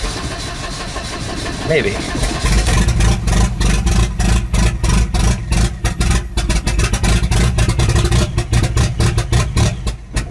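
A Volvo 240 wagon engine cranks, catches and settles into a loud, close, steady run, with a voice speaking briefly before it fires.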